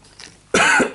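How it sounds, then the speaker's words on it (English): Two or three harsh coughs burst out in the second half, loud and close, after a quieter stretch of room tone during a tabletop game unboxing. "excuse my coughing."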